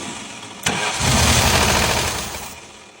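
A Datsun engine fitted with its old ignition coil cranks with a sharp onset, then catches into a loud, rough, steady running roar that tapers slightly toward the end; no voices are heard.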